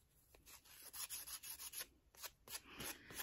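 Close, rhythmic scratchy sanding strokes rub back and forth repeatedly on an air dry clay Christmas ornament, quiet but crisp, with no talking.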